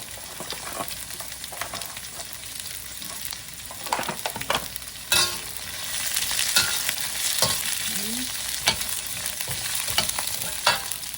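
Green beans, carrots and cabbage stir-fried in a wok, with loud continuous sizzling broken by scraping, clattering stirs and tossing, close and alone without talk.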